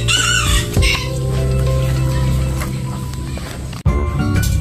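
Backyard chickens, including standard bantam hens and a brooding hen, cluck and call in a coop on a rainy day, fairly loud and close, with steady background noise and a brief sharp break near the end.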